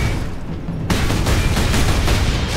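A turret in the Space Marines video game lets loose sustained rapid gunfire, a loud, dense roar of continuous shots that jumps in intensity partway through.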